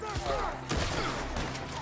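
A short burst of video game gunfire in Red Dead Redemption 2 during a tree-line shootout, a few sharp shots in quick succession mixed with game voices and background noise.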